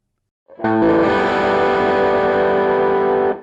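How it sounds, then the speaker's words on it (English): A heavily distorted electric guitar power chord strummed once with unmuted extra strings, ringing loud and sustained for nearly three seconds with a messy, buzzing clash before stopping. "If you accidentally strum the other strings as well, it'll sound like this"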